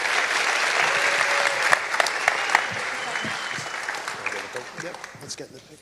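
An audience at a high school senior scholarship ceremony applauds the final monetary award recipients, with steady clapping and a few louder claps that gradually thin out, and voices heard beneath it.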